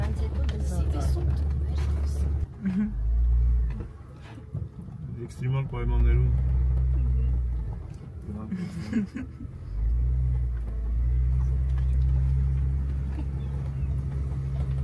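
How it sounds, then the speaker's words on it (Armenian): A car drives along with a loud, steady low rumble that dips briefly a few times, while people talk inside over the engine noise. "Հədə լավ այս ավտոն է քշը։"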